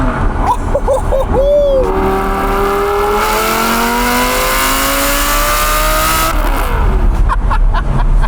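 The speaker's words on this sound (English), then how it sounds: "Lamborghini Gallardo." A Lamborghini Gallardo engine with an X-pipe exhaust revs hard and rises in pitch, with a loud raspy exhaust roar that holds steady before dropping off, heard up close.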